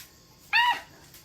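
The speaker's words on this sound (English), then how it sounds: "You hear that bird? It's a big owl." An owl gives a single short, clear hoot outdoors, brief and fairly loud against faint background noise.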